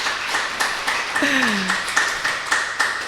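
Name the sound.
children clapping hands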